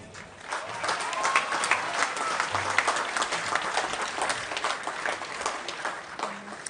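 Sustained applause from a large audience fills the room, an even wash of clapping that holds steady throughout.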